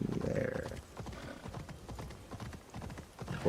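A horse ridden across the landscape in Assassin's Creed Shadows trots with a steady rhythmic clip-clop of hooves, moderately close and continuous, with a short whinny-like snort at the start.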